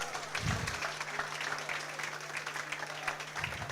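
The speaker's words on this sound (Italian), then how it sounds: "E un applauso allora." Steady applause from a small group at a coffee show bartending demonstration fills the whole stretch, even and continuous, with a low hum underneath.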